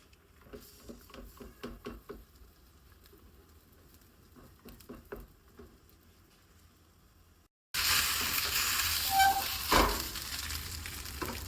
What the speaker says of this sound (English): Then fry the fish on both sides until beautifully golden and crispy.